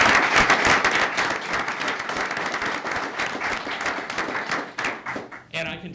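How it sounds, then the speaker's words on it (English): Applause from attendees at a Gaithersburg Mayor and Council meeting honors a high school football player headed to the Air Force Academy, loud dense clapping that gradually thins and ends as a voice begins. "So give him a round of applause for that."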